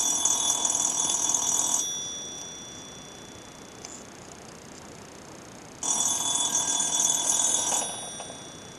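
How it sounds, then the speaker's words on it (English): A telephone rings indoors in two long electronic bursts separated by a few seconds of quiet, loud and clear with no talking. "isn't it beautiful when the phone rings?"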